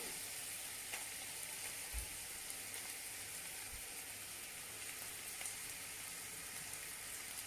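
Onions fry in a pan while being stirred, a quiet, continuous crackling sizzle with a couple of faint low knocks from the stirring.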